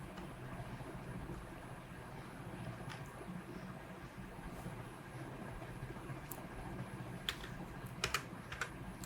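Quiet keystrokes on a computer keyboard tap faintly and irregularly while text is entered into an Excel spreadsheet, with a brief cluster of sharper clicks near the end over a low room hum.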